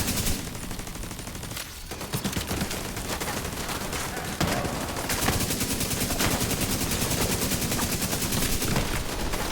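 Dense, continuous gunfire from The Division 2 video game, with rapid automatic bursts and overlapping shots forming a loud, sustained barrage for the whole stretch.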